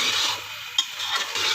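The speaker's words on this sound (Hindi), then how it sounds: "अच्छी तरह हम इसकी भुनाई करेंगे, 3 से 4 मिनट लग जाएंगे।" Kidney bean masala stir-fried in mustard oil crackles with a steady close sizzle, and a single sharp scrape of the spoon cuts through partway.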